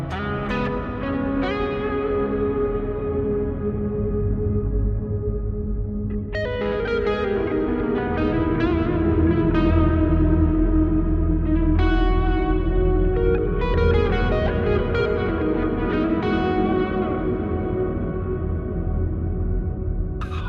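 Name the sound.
inverted shimmer delay reverb effect pedal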